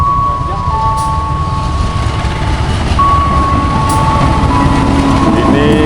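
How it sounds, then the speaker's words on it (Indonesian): A Kamandaka passenger train on the Purwokerto–Semarang Tawang route arrives at a harbor station, a loud, close, steady rail rumble with drawn-out wheel and brake squeals as it rolls to a stop, and a voice talks over it. "Ini ada kereta yang datang berhenti di stasiun pelabuhan."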